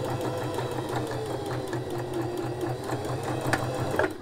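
Sewing machine running a backstitch, a steady rapid mechanical whirring chatter of the needle that continues evenly throughout, close and prominent.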